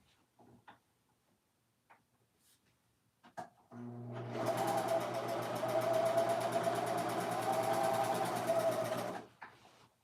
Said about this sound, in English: now I'm going to go behind it with the serger